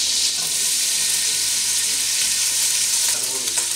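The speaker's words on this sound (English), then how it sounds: "we're going to brown that in the butter and oil" Cubed cheddar browning in butter and oil in a pan, a steady dense sizzle and crackle of frying that holds loud and even throughout.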